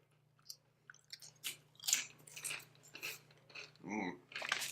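Close, crisp crunching of a light, spicy Paqui tortilla chip being bitten and chewed, a series of sharp bursts over several seconds with a steady low hum beneath.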